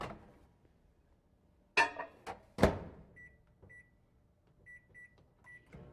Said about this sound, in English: Just going to quickly pop that in the microwave to melt it.